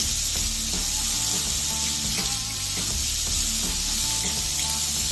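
A loaded breakfast skillet fries in a hot pan with a loud, steady sizzle and hiss that fills the whole stretch, with faint stirring and scraping underneath.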